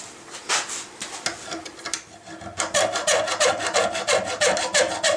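A metal file rasps across a brass ramrod thimble clamped in a vise, with a few scattered strokes at first, then a fast, even run of close, gritty back-and-forth passes.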